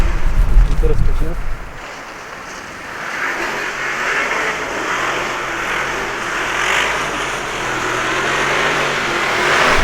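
An Audi RS Q8 with a 4.0 TFSI engine and quattro drive accelerates hard, a loud engine roar rising and swelling from inside the car, with someone talking over it.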